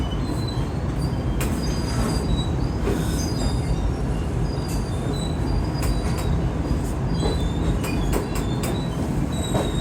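The Green Line Express passenger train from Margalla to Karachi brakes, producing a continuous loud roar of wheels on rails, overlaid by repeated high metallic squeals and short screeches across the whole stretch, heard from on board with no talking.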